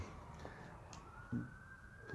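A faint siren tone rising steadily in the distance beneath low background noise, with a brief thump near the middle.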